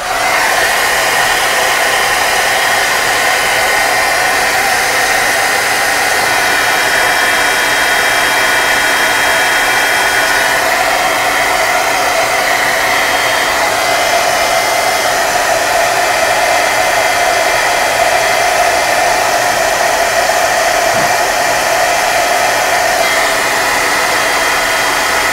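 A hair dryer runs steadily on artwork dusted with glitter, a loud continuous blowing whir held close for the whole stretch with no talking.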